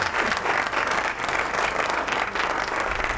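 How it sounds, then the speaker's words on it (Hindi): Sustained applause from a studio audience at a Ramadan quiz competition broadcast, dense and steady clapping filling the whole stretch without talk. "तालियां हो जाए जी इनके लिए"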